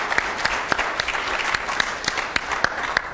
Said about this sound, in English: I'd like to give you all a round of applause